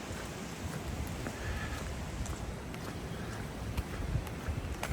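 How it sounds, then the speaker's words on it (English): Rushing rapids pour down over rocks beside a hiking trail, a steady broadband wash of water that stays fairly constant and close, with some wind buffeting the microphone and no voices. "Some rapids coming down the rocks."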